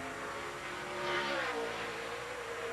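A stock car runs a qualifying lap at the 2002 Sharpie 500 in Bristol, its engine note rising and swelling before fading slightly, heard faintly and alone without speech.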